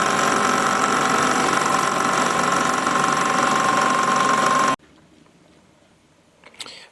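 A lathe machines a Willys transfer case intermediate gear, hogging out material in a steady, loud, continuous cut with a faint whine, then stopping abruptly into near silence with a brief clatter at the end.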